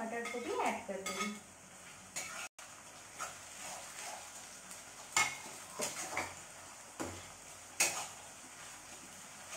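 Tomatoes frying over previously browned onions in a pan for a chicken curry, a steady low sizzle broken by repeated scraping and clinking of a spoon against the pan, close up with no talk.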